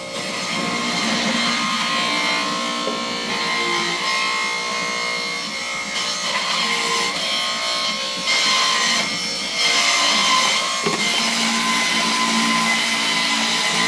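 A juicer grinds Mexican squash with kale, a loud continuous motor whine with rough chopping texture that runs steadily the whole time, slightly shifting in pitch as the produce is fed in.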